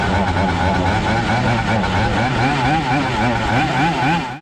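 Racing kart engine with a Yamaha senior setup starting up and running, a loud, buzzing two-stroke drone with rhythmic pulsing that holds steady before cutting off abruptly at the end.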